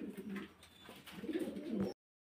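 Fancy pigeons cooing at a pigeon farm in Faridpur, a steady run of low, throaty coos close by, with a brief pause partway through before the cooing swells again.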